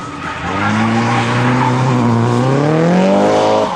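A drift car at a drift qualifier understeers through a corner, its engine droning loud and close while the tires squeal and skid steadily for several seconds, with the pitch slowly rising.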